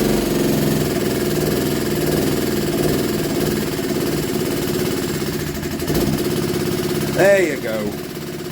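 A small 1967 Honda engine runs steadily with a rhythmic idle thrum, close and moderately loud, while someone talks over it.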